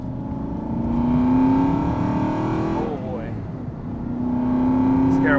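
Aston Martin V8 manual sports car engine revving close up from inside, a steady rumble rising and falling through a drive, with brief speech over it.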